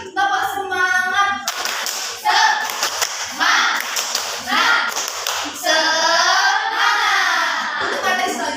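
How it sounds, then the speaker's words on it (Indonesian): Classroom group doing a rhythmic spirit clap, with bursts of patterned hand claps alternating with a teacher calling out and students chanting back in unison. "Nah, kita tepuk semangat lagi."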